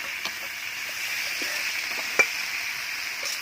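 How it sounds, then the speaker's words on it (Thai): Catfish stir-frying with curry paste in a pan, a steady oily sizzle with occasional scrapes and clinks of a utensil, one sharp knock partway through, close and continuous without talk. "มาปลาดุกใส่แล้วครับปลาดุกใส่แล้วครับ ผัดพริกแกงให้หอมนะครับ"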